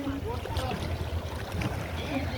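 Boats on the river at the Triveni Sangam in Prayagraj during the Magh Mela, heard as a steady low engine drone with water and wind noise throughout, with faint voices in the background.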